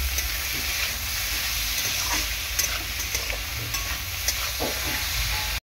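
Fried rice stir-fried in a hot pan after sugar and salt are added, a loud continuous sizzle and hiss with steady stirring and scraping, close up and without talk.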